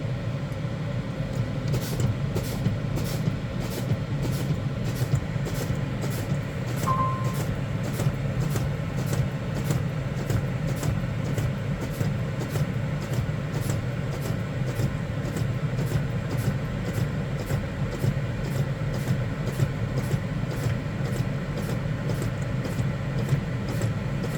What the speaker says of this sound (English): Now I'll be pumping my brake pedal until my red and yellow protection valves pop out in between 45 and 20 psi.